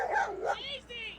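Dogs whimper and yip close by, with high, wavering whines and short squeaky cries in quick succession, mixed with a little background voice.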